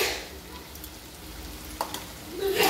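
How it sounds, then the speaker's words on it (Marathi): Cooked toor dal goes into a hot tempering with drumsticks for a Maharashtrian shevga bhaji, giving a steady close sizzle with a couple of soft spoon knocks and a louder surge of frying at the end. "शेवग्याच्या शेंगांमध्ये फोडणीमध्ये तुरीची डाळ टाकून घेत आहे"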